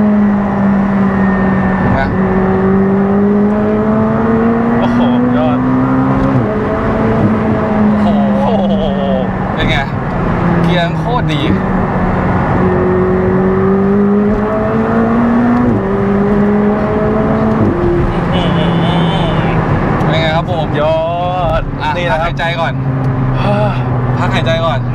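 The engine of a McLaren 765LT sports car roars loudly and continuously, climbing in pitch under acceleration and dropping at each gear shift. It is heard from inside the car, with someone talking excitedly over it.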